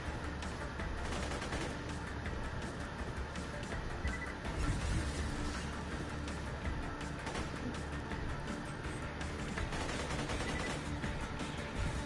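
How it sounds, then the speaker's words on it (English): An assault rifle fires in Borderlands 2, rapid bursts of automatic gunfire mixed with other battle noise forming a loud, dense, continuous barrage throughout. "This is like the only time you'll see me use the assault rifle"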